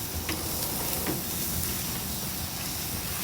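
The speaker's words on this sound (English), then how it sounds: "I don't know if you can hear that sizzle or not" Steady, soft sizzling of prime rib cooking on a Weber kettle grill, a continuous crackly hiss with a few faint pops, no voices.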